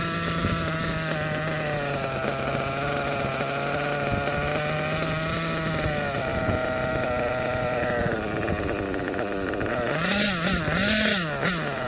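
A small nitro RC engine runs after an idle adjustment, a buzzy high-pitched drone that holds steady, then rises and falls in a few short revving surges near the end, close and loud.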